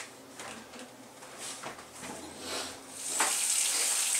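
Water is poured into a pan to steam-sauté in a home kitchen, a faint splashing trickle with small clinks that grows louder and brighter toward the end.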